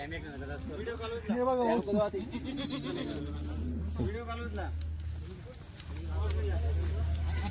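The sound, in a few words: Kathiawadi goats bleating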